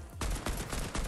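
Repeated bursts of gunfire from Fortnite, fired from a window, crack loud and close in three or four rapid volleys with a low boom under each.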